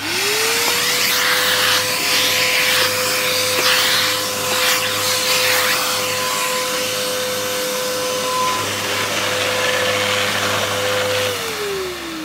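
A vacuum cleaner fitted with its hose and a dusting brush runs steadily and loudly with a high motor whine, spinning up at the start and winding down near the end.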